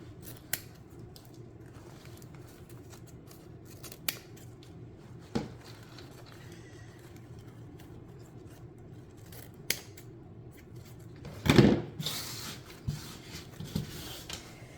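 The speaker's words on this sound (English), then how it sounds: "Fold it in half and cut from at an angle, just like that." Scissors snipping ribbon tails at an angle for a baby shower wreath, with a few faint scattered clicks and one loud, close crunching cut near the end.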